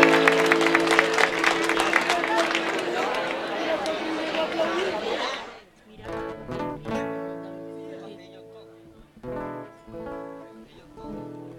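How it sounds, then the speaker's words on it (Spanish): Applause and crowd chatter ring out for a choir at a music school closing concert for about five seconds, then give way to sung or played musical tones with voices. "vamos a darles un fuerte aplauso"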